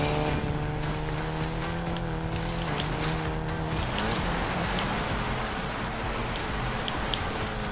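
A Golf 7 GTI drifts off-road in NFS Payback, its engine a steady droning hum with layered harmonics under a dense wash of gravel and tire noise that turns rougher and more scattered midway.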